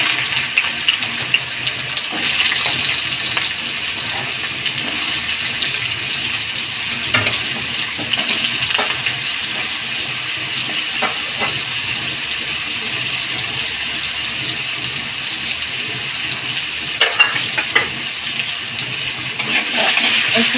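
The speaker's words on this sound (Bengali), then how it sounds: "কড়াইতে 2 চামচের মতন তেল দেবো, বেশি তেল লাগে না। তেল দিয়ে আলুগুলো ছেড়ে দিচ্ছি।" Potatoes sizzle in about two spoonfuls of oil in a wok, making a steady, hissing fry that runs throughout with occasional louder crackles and spits and no talking.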